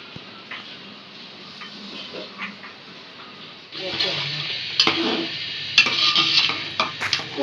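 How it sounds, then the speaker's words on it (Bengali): Haleem being stirred in a pot, a spoon scraping and clinking against the metal in irregular strokes, soft at first then louder and busier, with faint voices in the background. "বিকালের নাস্তায় হচ্ছে হালিম রান্না করছে আম্মু।"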